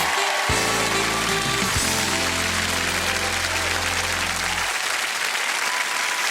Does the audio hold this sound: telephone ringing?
no